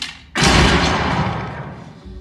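A single loud gunshot rings out in a film duel scene, a sharp onset followed by a long booming decay that fades over two seconds.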